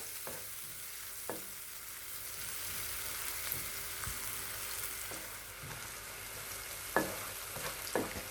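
Spices frying in a pan for Alexandrian-style liver, a steady soft sizzle with occasional light scrapes and clinks of a spoon stirring, close and alone.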